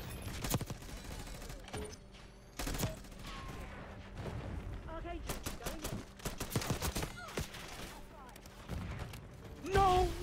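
Bursts of automatic gunfire in the video game Black Ops 6 from an XM4 rifle with iron sights, irregular volleys and single shots of varying loudness mixed with clattering game effects.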